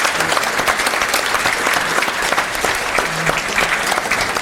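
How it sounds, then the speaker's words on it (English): A festival talk audience claps loudly and steadily throughout, a dense patter of many hands, close and sustained with no talking. "Big round of applause for Emma as well during the session."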